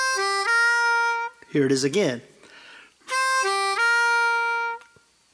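A blues harmonica plays a connector lick of 4-blow, 3-blow, then a 3-draw half-step bend, with sustained reedy tones that step down and bend. Someone speaks briefly in the middle, and the lick repeats afterward, close and loud.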